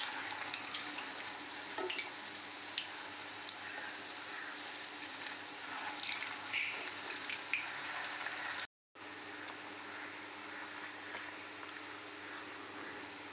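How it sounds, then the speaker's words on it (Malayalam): A rice and peanut snack frying in a pan on its second side over medium flame, a continuous soft crackling sizzle, briefly cut to silence near the end before resuming. "ഇതുപോലെ രണ്ടാമത്തെ സൈഡും പൊരിച്ചെടുക്കാം."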